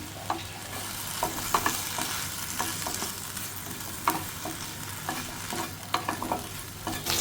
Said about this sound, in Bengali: এই পাশে আমি ভেন্ডিগুলো দিয়ে নিয়েছি সবগুলো মশলা আমি মিশিয়ে নেবো